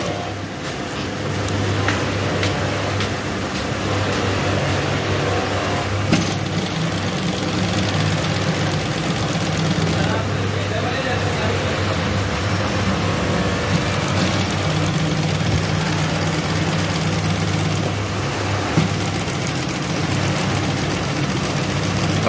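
A sewing machine fitted with a T3 3-in-1 double foot stitches fabric laid over a chain: a loud, continuous motor whirr with a low steady drone that runs unbroken throughout.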